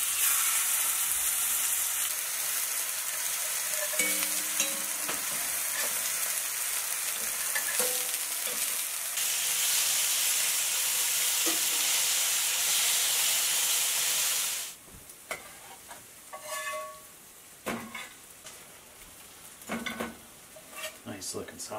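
Sausages fry in a pan with a dense, steady sizzle and hiss that drops away sharply partway through, leaving quieter spitting and crackling bursts in a home kitchen.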